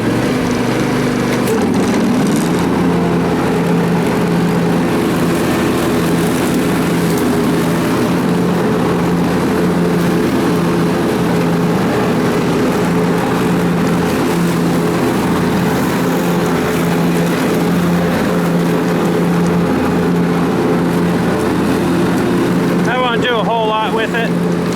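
The engine of a John Deere X300 riding mower runs at a steady, loud idle with a throbbing drone, lurching into the run just after starting; a voice speaks briefly over it near the end.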